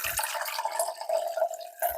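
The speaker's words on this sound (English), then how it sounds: "pour all that through the sieve." Homemade chicken stock from scraps, made in a Ninja Foodi multi-cooker, poured through a sieve into a jug, giving a steady trickling, splashing stream for about two seconds.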